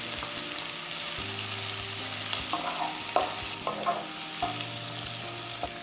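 Capsicum and potato stir-fry on a tawa for pulao, a steady sizzle running throughout with repeated scraping stirs of the spatula close by, no voices.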